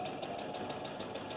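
Sewing machine stitching around the edge of a fabric piece for a dollhouse bathroom, a steady rapid mechanical whirr with regular pulsing stitch beats, close and continuous with no talking.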